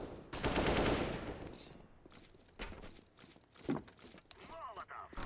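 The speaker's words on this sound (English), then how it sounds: "Throwing flashbang." A flashbang thrown in a video game: a loud, crackling burst at the start that decays into scattered clicks and sharp, rattling pops, with faint intermittent background noise afterward.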